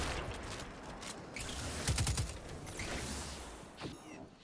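Gunfire in Destiny 2 rattles out in a quick burst of rapid shots mid-clip, set among other scattered game sound effects at moderate, slightly distant loudness, with no talk.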